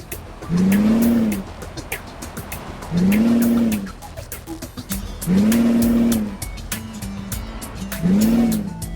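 A Kenworth truck hauling a load in American Truck Simulator repeatedly revs up to the redline, four rising, whining engine surges separated by short drops, loud and close.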